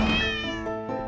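A cat meows in a horror adventure video game, one long clear drawn-out cry that tails off, up close with no talking over it.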